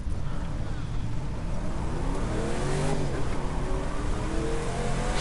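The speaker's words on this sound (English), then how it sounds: "It was the same Chevy LS engine. It's a classic V8 muscle car" A 1967 Chevrolet Impala with a classic V8 muscle car engine in The Crew 2 video game, a loud continuous engine roar with rising and falling revs and harmonic sweeps, close and steady throughout.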